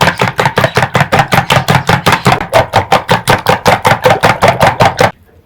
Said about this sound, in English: Then now I'll beat my eggs.